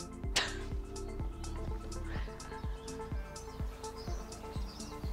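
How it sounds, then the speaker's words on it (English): Several birds chirp and sing outdoors, with repeated short calls over a steady low background rumble. "Just listening to the birds is so nice."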